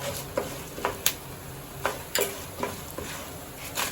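Mustard seeds and urad dal tempering in hot oil for raw tamarind rice, a steady fizzing sizzle punctuated by repeated sharp pops and spatula taps at irregular intervals, close and moderately loud with no voices.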